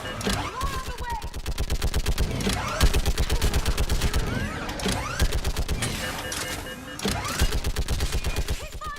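Rapid bursts of gunfire and machine-gun fusillades from the Mass Effect video game, dense and loud throughout, with mechanical clacks and shouted voices mixed into the battle.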